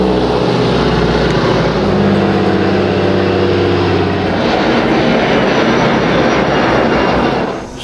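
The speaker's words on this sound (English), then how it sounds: "others flocked into town in float planes arriving one after another" A float plane passes close by in Ketchikan, Alaska, its propeller engine droning loud and steady with a rough roar that shifts in pitch as it goes by and thins slightly at the end.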